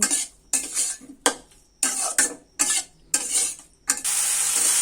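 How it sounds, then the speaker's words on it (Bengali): Water spinach greens sautéed with spices in a pan: repeated loud scraping stirs in short regular bursts, about seven strokes, ending in a steady hissing sizzle. "সমস্ত মশলা দিয়ে আবার আমি শাকগুলো ভালোভাবে কষিয়ে নেব"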